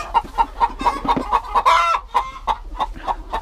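Chickens on a farm cluck loudly and close by in a steady run of short, repeated calls. A few louder squawks break in partway through, and nobody speaks.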